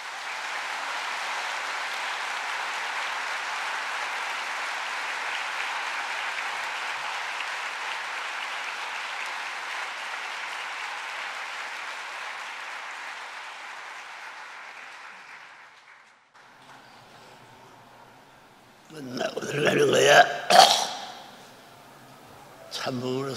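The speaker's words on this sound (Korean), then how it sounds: "참부모님께 큰 박수를 드립시다" Audience at a church lecture event applauding for the honored parents: broad, sustained applause from a large crowd that gradually fades out, followed by brief speech from nearby voices.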